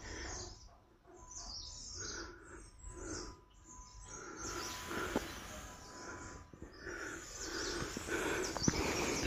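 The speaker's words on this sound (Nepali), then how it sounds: "अलिकति चराहरू कराएको आवाजलाई सुन्ने प्रयास गर्नुहोस् है तपाईँहरूले" Various birds chirp and call outdoors in a natural spot, repeated bright tweets and coos at moderate distance over a soft ambient background.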